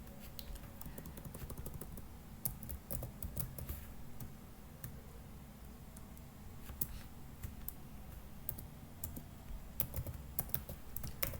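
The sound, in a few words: typing Python code on a computer keyboard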